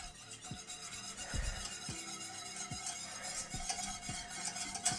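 A whisk beats cornstarch into a simmering sauce in a pot, with quick, repeated scrapes and taps against the metal over a soft bubbling sizzle, fairly quiet and close.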